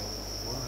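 Crickets kept at a cricket farm trill in a steady, unbroken high buzz, close and continuous, with no voices over them.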